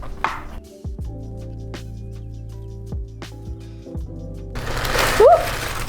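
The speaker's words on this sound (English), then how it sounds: "First, we're gonna cut our mushroom into thin slices." A knife slices mushrooms into thin pieces, giving a few crisp cutting taps on a board, spaced irregularly over a quiet background with some soft clatter near the end.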